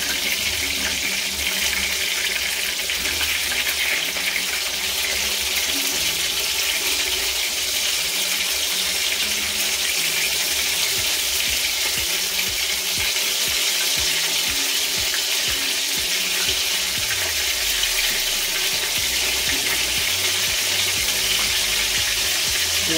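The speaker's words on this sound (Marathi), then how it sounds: "ते ओले असतात ना बोंबील म्हणून ते तेल जरा उडतं" Wet Bombay duck bhaji fries in hot oil, making a loud, continuous hiss and spatter that stays steady for the whole stretch, close up and with no talking.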